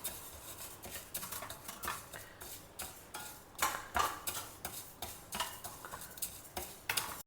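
Moong dal dry roasting in a pan, with a quiet, steady patter of light ticking and scraping as the lentils are stirred and shuffled, close by and without any voices.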